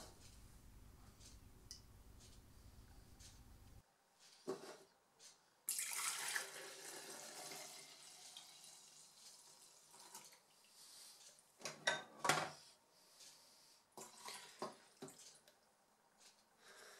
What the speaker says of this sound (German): das Wasser, welches eben schon mal durch die Maschine gelaufen ist, wieder in den Wassertank hineinfüllen